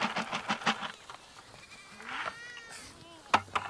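Goats bleat several times at close range while being moved to a new paddock, their wavering calls mixed with a person talking and a few short knocks.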